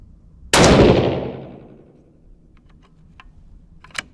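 A single loud, sharp report from a Solus rifle in 6mm Creedmoor, fired on an outdoor shooting range, with a ringing decay over about a second, then faint clicks and a small tap.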